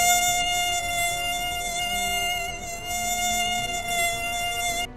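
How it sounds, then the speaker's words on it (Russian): Mosquitoes buzz in a thin, steady, high-pitched whine that hovers close and constant throughout, with slight swells in loudness and no voices. "А болезненные комариные укусы и активное жужжание к скорому ненастью и ночному дождю."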